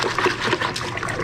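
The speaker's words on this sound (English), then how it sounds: "you have to dissolve the sugar in hot water" Hot water poured over sugar to dissolve it for sweet tea, a steady liquid trickle running close by for about a second, with no talk over it.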